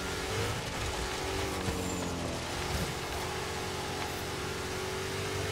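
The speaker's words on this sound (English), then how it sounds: "Love that turbo sound." Turbocharged car engine in the Forza Horizon 3 racing game, heard from the cockpit view as a steady loud drone with rising turbo whine and revving, no talking over it.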